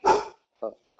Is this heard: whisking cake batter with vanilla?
no